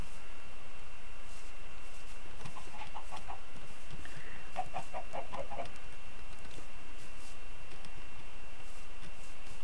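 Chicken clucks from a modded Minecraft-style video game come in two short bursts of quick clucking over a constant hum of game background noise.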